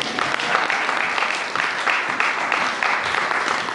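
A church congregation applauding, with a continuous dense patter of clapping that holds a fairly loud, even level throughout, its rhythm rising and dipping slightly.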